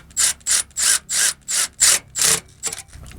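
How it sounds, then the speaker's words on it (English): A 13mm ratchet wrench tightens a battery cable on a 2015 GMC Yukon XL with a dead battery, making eight crisp, evenly spaced ratcheting clicks close by, each a short rasp, with the final strokes shorter. "I'm going to see if I can get in here this 13mm and tighten that cable"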